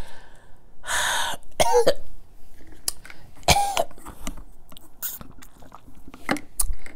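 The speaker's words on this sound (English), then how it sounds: "It makes you cough." Several harsh coughs and throat-clearing sounds come close up, separated by short breaths and quiet pauses.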